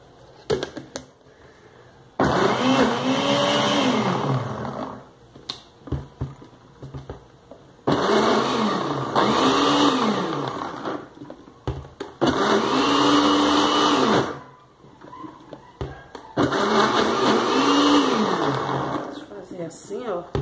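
Blender whirring in four loud bursts while mixing a homemade natural seasoning, each spin broken by short pauses, with rising and falling pitch as the motor labors; a person talks between runs.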